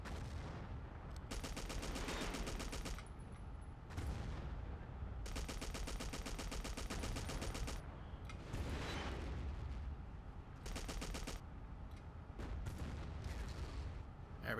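Gunfire in the World War II shooter game Battlefield 1942, with dense bursts of rapid automatic fire and heavier blasts recurring loudly throughout, broken by brief gaps.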